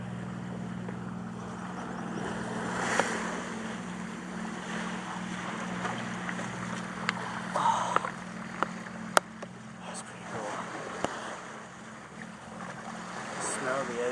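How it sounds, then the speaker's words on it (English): Ocean waves at a Maine lighthouse wash in a steady, soft rumble with wind buffeting the microphone, fairly distant and continuous, with occasional faint voices. "The ocean."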